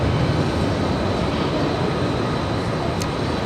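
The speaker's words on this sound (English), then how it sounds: "this one is the one flying in from Boston, a little E190 on final approach" A JetBlue Embraer E190 jet on final approach into JFK produces a steady, loud, broadband engine roar that stays constant throughout, with no talking.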